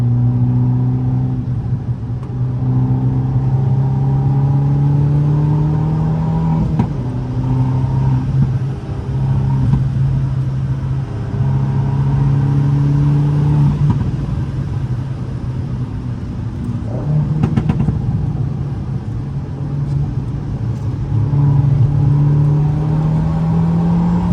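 A stage 1 Abarth 500, its 1.4 engine tuned to around 180 bhp, revs through repeated acceleration runs on a night drive, a loud rising drone heard from the cabin, broken by shifts and faint pops and bangs.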